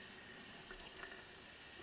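Vinegar being poured in small amounts onto baking soda in a science demonstration: a soft, steady liquid pour and fizzing hiss, quiet and continuous with no talking.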